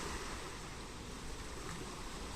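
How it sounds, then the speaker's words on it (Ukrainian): Ocean waves wash continuously as a steady broadband roar of surf, moderately faint and unbroken throughout, with no voices. "тут теж такі хвилі, шум океану"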